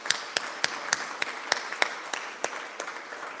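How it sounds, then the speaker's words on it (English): An audience applauds award winners at a Sikh high achievers award ceremony. Distinct, fairly regular claps stand out over a soft background wash, moderately close and steady throughout. "May we have a huge round of applause for all the award winners today"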